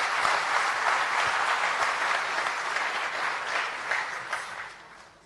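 An audience breaks into sustained applause at a spiritual talk about the Rally for Rivers campaign. The dense clapping stays steady for several seconds, then fades away.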